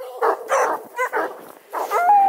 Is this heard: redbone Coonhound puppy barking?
yes